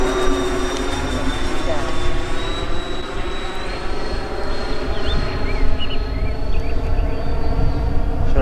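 A giant RC Airbus A350 XWB model airliner on its maiden flight, a steady jet-like turbine whine and roar climbing overhead, with a thin high tone and people talking nearby throughout.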